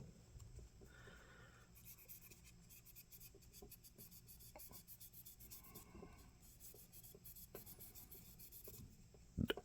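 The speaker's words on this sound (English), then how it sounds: "we're just going to go over it with the fiberglass pencil" A fiberglass pencil scrubs corrosion from a metal contact piece of an Athearn GP35 model locomotive, giving a steady dry rasping scratch in quick repeated strokes, close up and continuous, with a sharper knock near the end.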